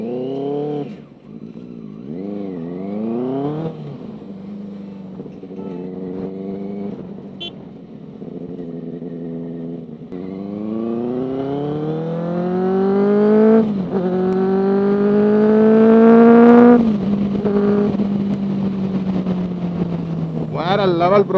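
Benelli TNT 600i motorcycle on a test ride, its 600 cc engine revving and accelerating through rising gear pulls, loud and close with a strong harmonic exhaust note throughout.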